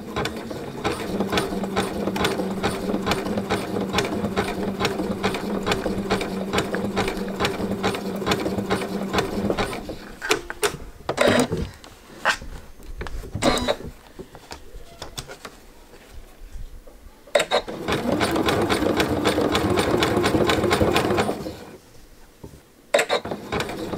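A sewing machine stitching jelly roll fabric rope pieces into a bowl, close and loud with a fast mechanical chatter in long runs broken by pauses and handling clicks, then another sustained burst of stitching, with no talking.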